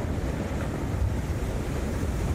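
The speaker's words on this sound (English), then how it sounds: "You can even hear the noise from the spit. There's so much water moving around." Heavy Tahiti surf at a pro surfing contest roars as a thick wave spits spray from its barrel, a dense, rumbling wash of churning water and wind buffeting, with no voices.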